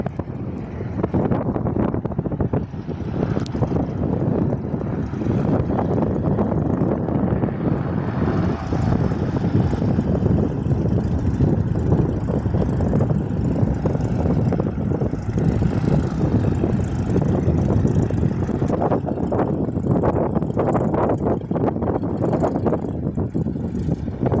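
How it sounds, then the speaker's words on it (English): A Cessna C172 propeller plane flying past on a windy day at an airfield, a broad droning engine roar heavily buffeted by wind gusts on the microphone, steady and fairly loud throughout. "And here's the second one of the Singapore Colleges, Cessna C-172."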